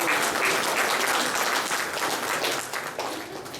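Audience clapping at a Rotary club installation and felicitation ceremony in Hunsur's Rotary Bhavan, a dense, sustained round of applause from a crowd that fades slightly toward the end, with no voices over it.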